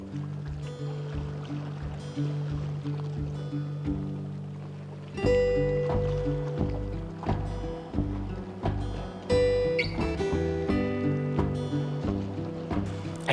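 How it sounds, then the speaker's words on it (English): Paddle strokes on a pack raft out on coastal water, with a steady rhythm of splashes and water swishing close by against a constant wash of background noise, and no voices. "paddling around in a pack raft"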